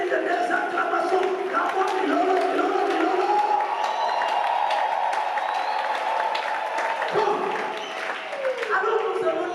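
A congregation at a prayer marathon acclaiming and applauding, a loud sustained wash of clapping mixed with shouts and cheering voices that carries through most of the stretch, then thins briefly before swelling again.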